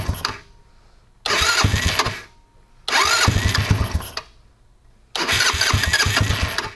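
A 150cc Ice Bear scooter engine with a carburetor mod cranks in three loud, close bursts of whirring starter and stumbling combustion, separated by brief quiet gaps.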